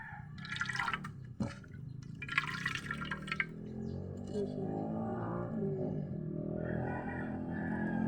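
Tap water runs steadily while an item is rinsed and scrubbed in a sink, with splashing bursts early on, then a continuous pouring stream, close and moderately loud.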